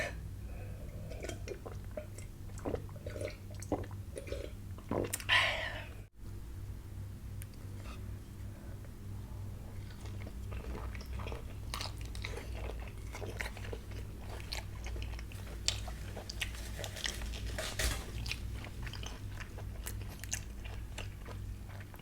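Someone chews crunchy raw giant tiger prawn soaked in fermented fish sauce with chilli, giving close, repeated wet crunches and bites, with a few light clinks of dishes between mouthfuls.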